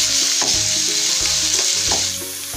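Onion that has been lightly fried sizzles in a pan as garlic paste is stirred in, giving a steady close hiss broken by several scraping strokes of a spoon, and the sound eases slightly toward the end.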